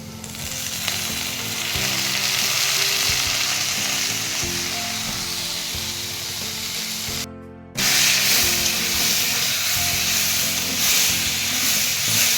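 Red lentils frying in a hot wok, a steady loud sizzle with scraping stir strokes for the whole stretch, cut by one brief drop near the middle before the hiss returns.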